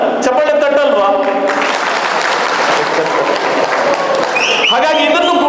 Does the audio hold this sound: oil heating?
no